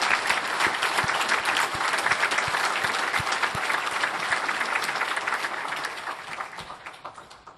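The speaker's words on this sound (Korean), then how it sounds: "박수로 한번 감사를 표하겠습니다." Church congregation applauding in thanks during a Korean sermon service, a dense sustained roll of many hands clapping in a large hall that gradually fades out.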